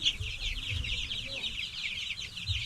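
Native chickens cluck and chirp in a farm setting, with a busy, continuous chorus of fairly close birds over low rumbling background noise.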